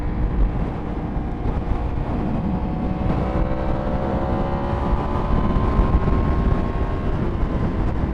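A Yamaha MT-10 motorcycle riding in Texas traffic, a loud, steady engine drone with rising tones as it accelerates, heavy wind buffeting over the microphone and no talking.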